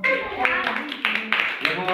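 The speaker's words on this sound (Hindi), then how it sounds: "ठीक है, ताली बजाओ।" Children in a classroom clap their hands in several sharp bursts, the claps mixed with voices talking over them.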